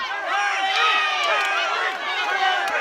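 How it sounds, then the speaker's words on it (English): A big crowd at a UCMMA mixed martial arts fight roars and cheers continuously, with shouts and whistles rising through the steady din. "The crowd are going absolutely nuts here."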